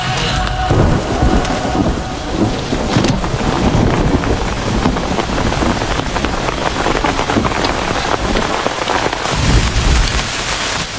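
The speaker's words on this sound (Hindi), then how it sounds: "हाँ यहाँ पर बारिश हो रही है" Steady heavy rain pouring down, loud and close, with low rumbles of thunder rolling underneath and no voices.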